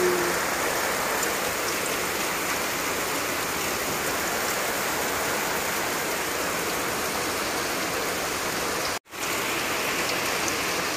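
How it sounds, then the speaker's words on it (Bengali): Heavy rain pours steadily onto a roof and yard outside a poor, patched sack-walled house, with water collecting in a basin; a dense, unbroken wash of close rainfall with one brief dropout near the end. "খুব জোর জল এলো।"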